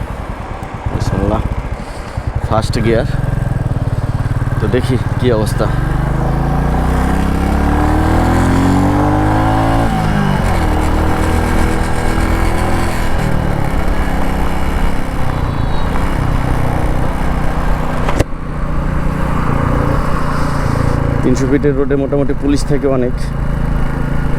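A Royal Enfield Classic 350 cc motorcycle starts and rides off, its engine loud and close, revving up in rising sweeps through the gears and holding a steady throbbing drone, with a person talking over it.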